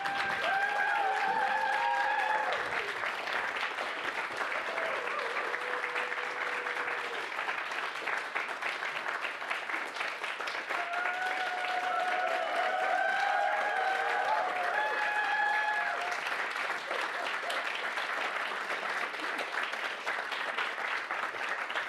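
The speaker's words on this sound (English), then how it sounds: "I would like to do is invite all of our presenters up here for a round of applause" A crowd at a student presentation event applauds continuously for over twenty seconds, with scattered whoops and cheers rising above the clapping.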